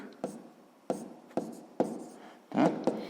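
Pen writing down a math answer on paper, with five or six short scratchy strokes in an irregular rhythm, close and fairly quiet, with no talking.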